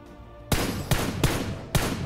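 Rapid bursts of automatic gunfire in a battle royale shooter during a solo ranked match, loud and close, with sharp shot transients near 0.5, 0.9, 1.25 and 1.75 seconds over continuous firing and no talk.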